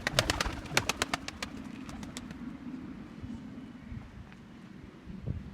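Pigeons cooing in low, throaty murmurs, with a quick series of fluttering wing claps at the start and light wind noise.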